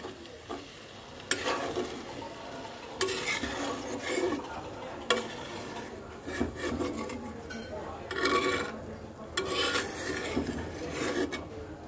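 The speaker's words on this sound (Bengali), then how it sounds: "এবার মিক্সড করে দেব সুন্দর করে সবকিছু একসাথে।" A spoon stirs a pot of thin, light country rooster curry just after broth water goes in, making repeated rasping scrapes in uneven bursts over a soft simmer, fairly quiet and with no voices.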